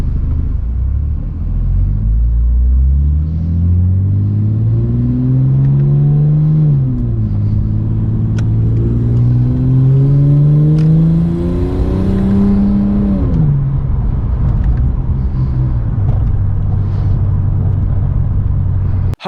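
A Ford Falcon fitted with a PVS paddle shift kit drives along, its engine climbing steadily through rising revs, easing off at gear changes, then settling into a steady cruising drone, loud and continuous with no talking.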